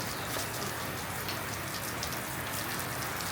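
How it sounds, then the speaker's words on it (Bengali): Water sprayed onto a tin roof makes a dense, steady rain-like patter that stays loud and unbroken throughout, with no voices. "বৃষ্টি আনলাম"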